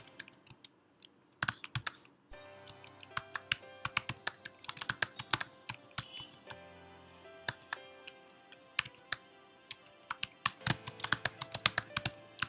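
Typing on a computer keyboard while laying out flyer text in Adobe Illustrator: steady runs of sharp, close key clicks in irregular bursts with brief pauses, loud and alone without speech.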